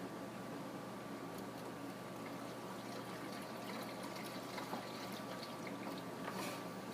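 Washer solvent poured into a car's reservoir, a soft steady trickling and glugging of liquid, close and quiet with no talk.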